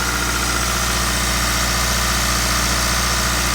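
A Vauxhall Mokka 1.6 turbo-diesel engine fitted with a Hydroflow unit idles loudly and steadily up close, a constant low rumble with a buzzing vibration and no other sounds.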